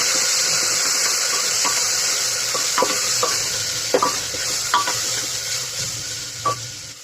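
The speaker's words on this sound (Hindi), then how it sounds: "हल्का सुनहरा होने तक भूनेंगे" Onions and paste frying in a pan on low gas for a yam (suran) curry, a steady soft sizzle with scattered clinks and scrapes of a spoon stirring.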